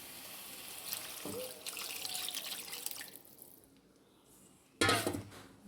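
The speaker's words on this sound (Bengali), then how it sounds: "জল দিয়ে দিচ্ছি, এবার একটু ফুটবে" Spiced water poured into a cooking pan of curry, a running, splashing pour through the first few seconds that fades out, followed by a sharp clatter of utensil or pot near the end.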